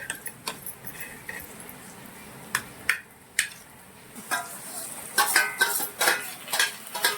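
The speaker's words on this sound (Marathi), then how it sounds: "सगळं मिक्स करून घ्यायचं त्याच्यामध्ये." A vegetable mixture with green chillies being stirred in a pan, irregular scrapes and clinks of a spoon against metal over a faint sizzle, growing busier toward the end.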